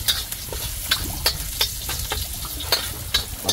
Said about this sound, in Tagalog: Nagmamantikang bawang.